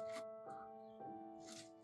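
Pieces of rough opal from Lightning Ridge, Australia, are moved around on a surface and give a few brief clicking, rattling scrapes. A steady tone hums underneath, and a voice is faintly present.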